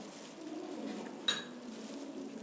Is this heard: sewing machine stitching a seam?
no